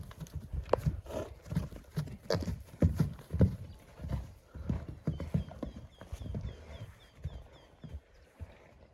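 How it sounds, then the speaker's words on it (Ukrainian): Horses, mares and foals at pasture, clip-clop with uneven, shuffling hoof steps on the ground, close by, with an occasional faint whinny and no talking. "Коні вже в нас на паші всі, кобили на паші, от лошата на паші."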